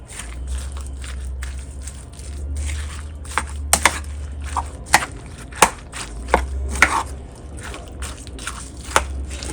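Knife chopping carrot or zucchini into small pieces on a board for a quick breakfast, with irregular sharp close taps scattered over a steady low background hum.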